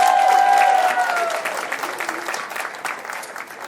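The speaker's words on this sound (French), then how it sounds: "Applaudissez pour maman Françoise" A crowd at a family birthday celebration for a mother applauds warmly, loud dense clapping at first that gradually thins, with a sustained tonal hum and some voices mixed in.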